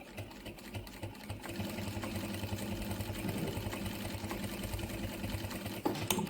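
Brother S-7190A lockstitch industrial sewing machine running a design stitch, a steady close mechanical hum and rapid needle chatter starting after a quiet moment and continuing evenly, with a louder clunk near the end.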